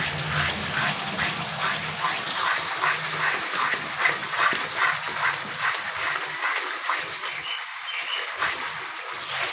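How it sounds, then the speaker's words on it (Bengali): Ground cumin and coriander with ginger, garlic and green chilli sizzle and crackle steadily in a pan as a base for katla fish kaliya, a continuous close frying hiss with faint stirring scrapes and no talk. "এবারে কিন্তু এটাকে আমি সুন্দর করে কষিয়ে নেব।"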